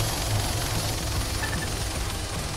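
A steady, loud helicopter drone in the military simulation game Arma 3 with a deep rotor rumble and broad engine noise runs continuously without a break.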